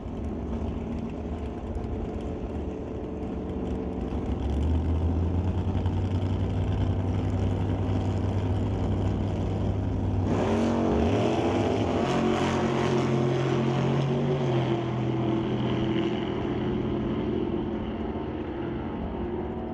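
Drag racing cars at a Super Pro race track, including a small black wagon that does big wheelies, roar loudly and steadily throughout, with a sharp surge of engine noise about halfway as they launch down the lanes.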